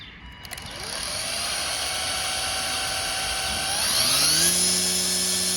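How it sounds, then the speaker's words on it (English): A Ryobi 40V cordless string trimmer, model RY40ST01K, whirs up to speed and holds a steady, close electric motor whine. Its pitch shifts partway through, with no voices. "Let's test this trimmer out right away."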